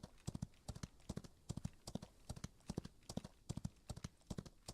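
Horse hooves gallop in a Wild West video game, a quick, even clip-clop rhythm of sharp hoofbeats running steadily throughout at moderate distance.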